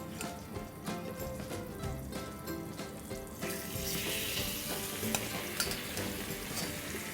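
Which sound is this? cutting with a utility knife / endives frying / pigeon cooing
endives frying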